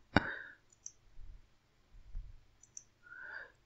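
Short, close clicks of a computer mouse while navigating menus in SPSS statistics software, scattered singly across a quiet stretch with a couple of louder soft thuds in between.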